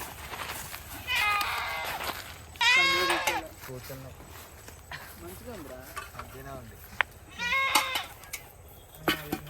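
Goats bleat in a village at an outdoor cooking spot, with three loud, close, quavering calls spaced across the stretch and quieter voices and rustling between them.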